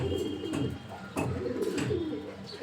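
Low, throaty cooing of Homer racing pigeons close by, repeated soft burbling calls over a gentle background hum.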